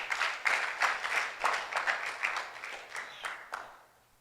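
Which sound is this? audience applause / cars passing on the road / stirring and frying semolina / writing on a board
audience applause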